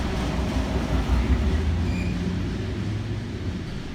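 Steam locomotive 5917 rolling through Mortdale toward Tempe in New South Wales, a loud sustained low rumble of the train passing close by with steady wheel and carriage noise and no break.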